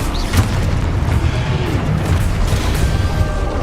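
Confringo fire spell in Hogwarts Legacy gameplay lands with a loud booming blast and sustained rumbling roar, close and dense, with no voices.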